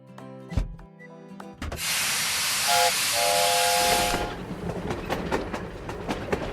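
A train in a cartoon car video game lets out a long, loud steam hiss with a whistle tone through it, ending in rhythmic chugging and clanking, set between bright game jingles.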